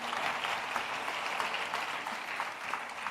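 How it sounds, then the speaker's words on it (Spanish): A church congregation at a pastors' retreat applauds, a steady wash of clapping heard from a moderate distance throughout the short stretch. "Denle un aplauso al Señor."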